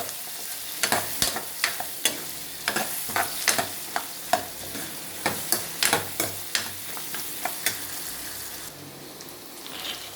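Ridge gourd frying in oil in a pan, with a continuous sizzle under frequent sharp spoon scrapes and taps in an uneven rhythm, close and clear, with no voices.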